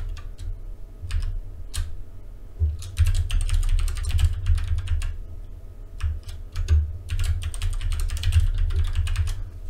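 Computer keyboard typing in quick bursts of clicking keystrokes with short pauses, entering a password while setting up Docker and Portainer on a ZimaBoard Proxmox server, close and steady over a low hum.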